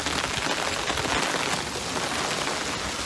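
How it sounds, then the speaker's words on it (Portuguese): Heavy wet snow falling like rain in Izumo, Japan, a dense, even hiss of drops on surfaces filling the whole stretch at moderate, steady loudness with no voices. "tá começando a nevar muito. E tá neve tipo de chuva."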